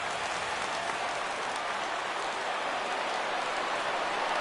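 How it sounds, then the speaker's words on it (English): A stadium crowd cheers and claps in MLB The Show 17 as Braves and Brewers reach a 3-2 count with two outs, a dense, steady roar of applause, even and loud throughout with no voices standing out. "Crowd gets up for the 3-2."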